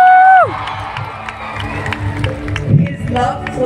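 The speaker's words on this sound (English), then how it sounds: "a huge round of applause for Robert." A large crowd at a festival cheers and applauds after a speaker's fading tone, giving a loud, steady wash of shouts, whoops and clapping that carries on throughout, with some voices rising above the roar.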